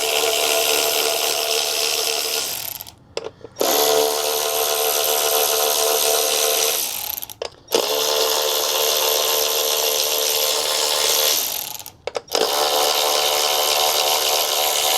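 Power tool whirring steadily while undoing 10mm bolts on a Honda FK8 Type R, three long loud bursts with brief pauses between them, no talk.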